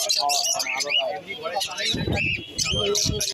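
Yellow-sided conures and other caged birds chirp and squawk in shrill bursts at a busy Sunday bird market in Serampore, with people talking nearby throughout.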